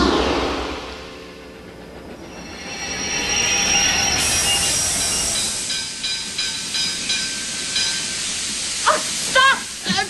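A train pulls away from a platform in an animated show, hissing steam and rumbling louder as it gathers speed, with high squealing wheel tones and clanking toward the end.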